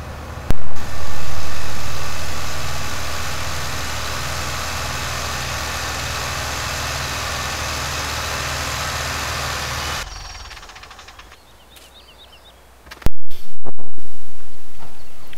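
A tractor engine idles in Farming Simulator 2015, a steady low rumble holding loud and unbroken for about ten seconds before cutting out, followed by quieter game ambience and a couple of brief sharp bursts.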